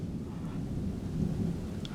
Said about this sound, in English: Still thundering, so I don't really feel like getting out there into doing anything.